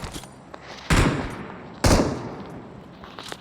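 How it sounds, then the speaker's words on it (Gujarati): Two loud, sharp gunshot blasts in PUBG Mobile, about a second apart, each trailing into a short echoing decay, followed by faint clicks. "એક ફાયરિંગ આવ્યું"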